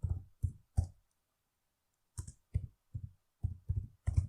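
Keys clack on a computer keyboard as a command is typed, in two clear bursts of sharp, close clicks separated by a short silent pause.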